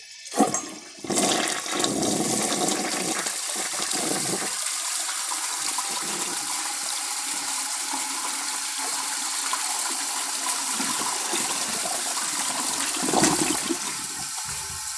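A 1974 American Standard Cadet toilet flushes loudly and close up, with a sharp start, a strong steady rush of water, then a brief surge near the end as the bowl refills.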